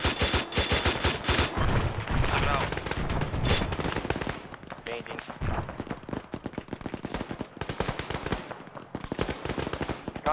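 Sustained gunfire toward infantry in the ARMA 3 video game, rapid automatic bursts of sharp cracks in long runs with brief pauses, loud and close, with occasional heavier reports mixed in.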